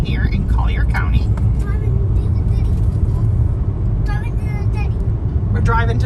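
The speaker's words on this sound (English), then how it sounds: "We're driving to the city." A car drives south along County Road 29 in Collier County, Florida, heading toward Everglades City, its steady low engine and road rumble filling the clip while people talk over it inside.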